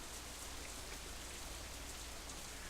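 Steady, soft rain fills the scene in the visual novel game Katawa Shoujo, a continuous even hiss of falling drops with no voices, faint and unchanging throughout.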